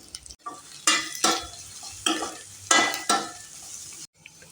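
Onion and curry leaves frying in hot oil in a pan, several bursts of crackling sizzle and stirring that swell and fade, close by, with brief quiet gaps between.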